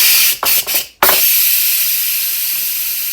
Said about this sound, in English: Okay, our timer just went off, so we're going to go ahead and release the pressure.